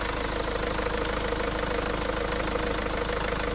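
A car engine idles steadily with a rapid, even, knocking pulse, close by and unbroken, with no one talking.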